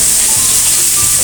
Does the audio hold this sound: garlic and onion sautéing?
yes